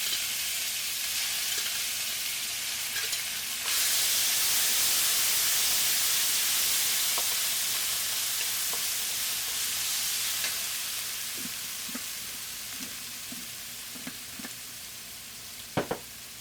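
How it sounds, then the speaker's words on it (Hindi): Onions with garlic and ginger frying in spices in a pressure cooker for lamb pulao, a steady close sizzle with soft stirring clicks and scrapes near the end, no talk. "लहसुन अदरक को अच्छी तरह से मसालों में यानी कि प्याज में भून लें"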